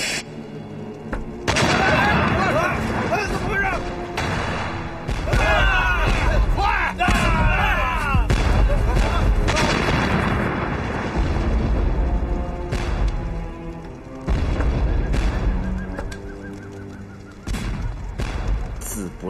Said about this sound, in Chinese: 陛 下容禀，是爆竹。